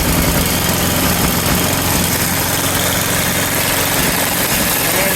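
A snow blower engine runs steadily at idle after a pull start with choke, its loud continuous rumble and buzzing hum close and unbroken, with no voices.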